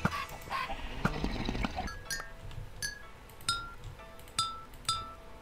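Bright glassy crystal music chimes in the Minecraft 1.8.9 modded survival game, a few clear ringing notes spaced about a second apart after an earlier cluttered jumble of clinks.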